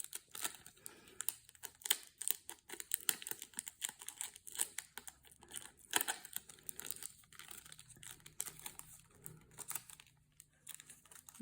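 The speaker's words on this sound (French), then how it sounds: "c'est un gros scotch noir assez résistant. Donc, un souci avec mon scotch qui se déroule très mal." Strong, heavy black adhesive tape unrolls in stiff, uneven pulls, giving dense crackling and ripping bursts with brief pauses, close and moderately loud, no talking.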